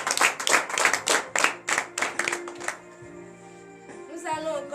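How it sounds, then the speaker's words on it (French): A congregation at morning prayer claps in a quick, loud rhythm of about a dozen beats, then breaks into scattered acclamations and voices as the clapping stops. "Donnez de vives acclamations à l'Éternel."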